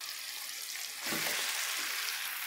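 Chicken pieces hitting hot oil in a karahi on high flame, a broadband sizzle that jumps louder about a second in and keeps hissing steadily to the end, close and with no talking.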